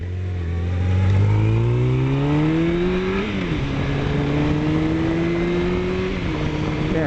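Motorcycle engine on a winding mountain road, its pitch climbing steadily under acceleration, then dropping at a gear shift and holding a steady, loud drone, close up with no talk.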